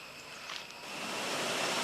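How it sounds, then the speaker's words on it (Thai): Tad Pho waterfall in Nakhon Phanom, Thailand, pours as a steady broadband rush of falling water that grows slightly louder over the short stretch, with no voices. "เราก็จะมาเจอกับน้ำตกตาดโพค่ะอย่างที่เห็นนะคะ"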